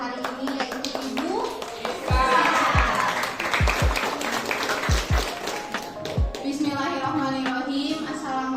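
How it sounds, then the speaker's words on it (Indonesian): An indoor audience at a digital education talk show claps for the MC, a moderate burst of applause with a few sharp nearby claps, while voices talk over it. "mari kita berikan tepuk tangan untuk MC kita hari ini"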